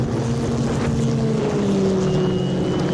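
Historic Formula Ford 1600 race cars at Snetterton drone past from a distance, engine tones sliding in pitch under a constant wash of wind and track noise.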